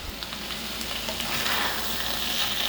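Chicken thoran, a Kerala-style dry chicken dish, sizzles and fries steadily in a pan with a continuous crackling hiss, close and even throughout, with no voices.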